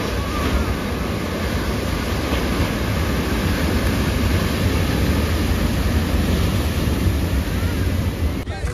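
Sea waves roll in at high tide on Digha beach, a steady loud wash of surf with wind buffeting the microphone throughout.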